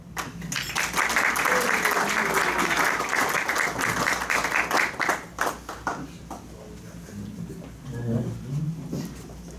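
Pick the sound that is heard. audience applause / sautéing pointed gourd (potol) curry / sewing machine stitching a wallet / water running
audience applause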